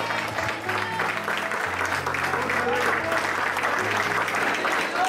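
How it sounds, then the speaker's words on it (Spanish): Church congregation clapping steadily and loudly throughout, a dense sustained applause with some voices mixed in beneath. "Dele palma, hermano, que se sienta."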